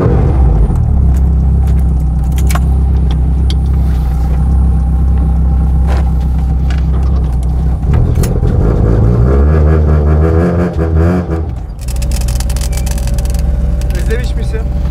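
A modified Tofaş car's engine runs with a loud, deep, steady idle, then briefly revs higher before settling again, while people talk close by.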